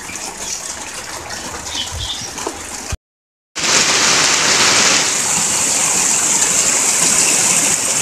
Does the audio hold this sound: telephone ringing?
no